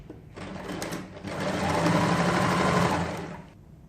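Sewing machine running a half-inch seam on a dress, a steady close whirring hum that speeds up briefly, then runs continuously for a couple of seconds before stopping.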